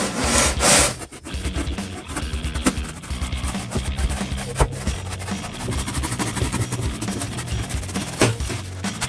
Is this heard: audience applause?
no